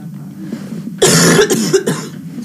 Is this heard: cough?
yes